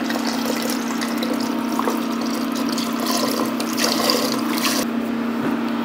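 Mushroom stock pours steadily into a pot of smoked butternut squash soup, a continuous close liquid rush and trickle lasting several seconds with a faint steady hum beneath.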